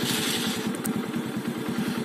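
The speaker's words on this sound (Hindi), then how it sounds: "तो मैं बाइक को स्टार्ट कर लेता हूँ और देखते हैं।" A TVS Radeon motorcycle engine idles at night, a steady close thumping putter with an even rapid beat and no revving.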